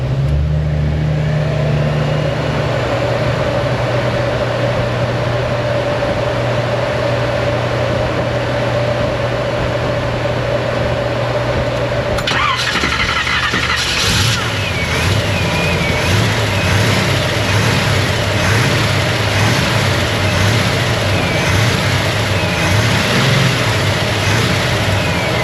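A 1972 Chevelle engine in a repair shop holds a steady low idle, then catches a sharp transition midway and settles into a rougher, louder pulsing run, continuous throughout with no talk.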